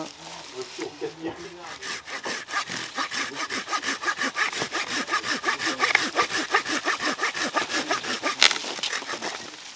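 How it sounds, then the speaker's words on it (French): An Egoin hand saw cutting through wood with steady, rhythmic back-and-forth strokes, close and continuous for the whole stretch. "avec une scie Egoin. On va mettre comme ça."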